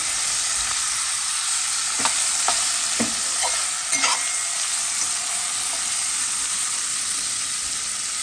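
Potatoes and flat beans fry in a pan with a steady, loud sizzle that runs throughout, broken by a few sharp spatula scrapes and taps near the middle.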